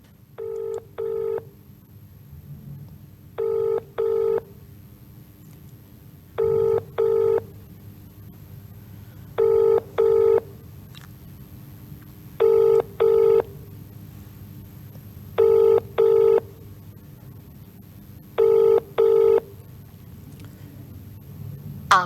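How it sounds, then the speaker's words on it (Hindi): Indian telephone ringback tone heard as an official is called: eight evenly spaced double-pulse rings repeat every few seconds, loud and clear over a faint background hum, with no talk. "चलिए इस मामले में हम अधिकारी को फोन लगाते हैं।"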